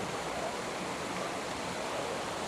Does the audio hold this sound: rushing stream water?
yes